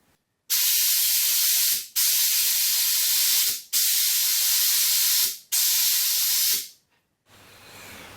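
Compressed air blown through an AN hose in four loud, sharp hissing bursts, each about a second long with brief gaps, close by, followed by quieter background noise.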